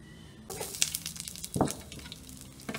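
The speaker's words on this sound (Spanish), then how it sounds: "vamos a poner a sofreír 2 dientes de ajo y media cebolla" Two garlic cloves and half an onion sizzle in a little oil in a saucepan, with crackling bursts and a few stirring scrapes, close and alone.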